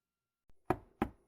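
Knocking on a door: a soft tap, then two firm, close knocks in quick succession, alone in an otherwise quiet room.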